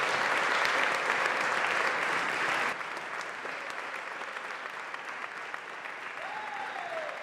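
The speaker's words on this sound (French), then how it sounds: "Je vous demande tout simplement de l'accueillir et de l'applaudir." An audience applauds loudly and steadily to welcome a speaker onto a stage, dense clapping that drops to a softer level partway through and carries on to the end.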